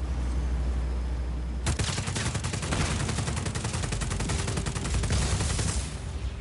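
Rapid automatic gunfire in Just Cause 4, aimed at a generator's exposed core, bursts in after a low rumble and keeps rattling loudly and continuously for several seconds, with no talking.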